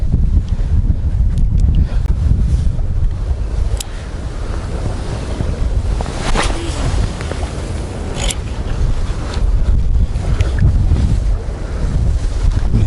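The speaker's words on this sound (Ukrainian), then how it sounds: "Вітер видуває дугу таку." Strong wind buffets the microphone outdoors on the Dnipro River in Kyiv in a constant, heavy roar, rising and easing in gusts alongside splashing water.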